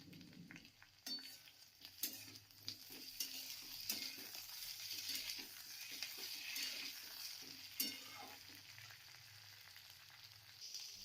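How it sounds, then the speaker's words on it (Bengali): Chopped tomato stirred with eggplant and small fish in a pan, with scraping and clinks of a utensil against the metal over a soft continuous sizzle, close and fairly quiet. "টমেটো দিয়ে আমি 2 মিনিট নাড়াচাড়া করে নিয়েছি।"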